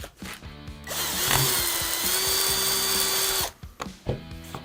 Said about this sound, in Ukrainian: Тому, напевно, це сверло вже не підійде, я візьму трішечки поменше.